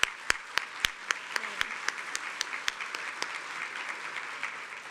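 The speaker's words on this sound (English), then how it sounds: "let's give our award winners another round of applause" Audience at a STEM awards brunch applauds the award winners, with a fairly quiet wash of clapping marked by scattered loud, close individual claps that thin out toward the end.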